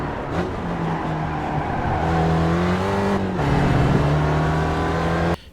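A Spec Racer Ford race car engine at Laguna Seca in iRacing: a loud, close, steady buzzing drone that climbs in pitch under full power, dips briefly with a gear change, then rises again before cutting off abruptly.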